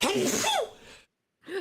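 A single sharp sneeze with a gasping intake, loud and close, followed by a short pause and a brief voiced sound.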